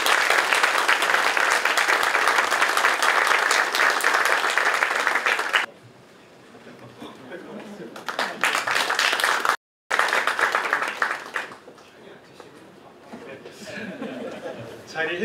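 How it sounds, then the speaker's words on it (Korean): An audience at a regional education talk concert applauds to welcome the superintendent, loud dense clapping for several seconds before it drops abruptly. Scattered claps, light laughter and chatter follow. "임종식 교육감님을 박수로 모시겠습니다"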